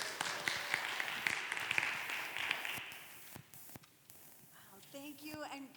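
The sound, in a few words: audience applause for panelists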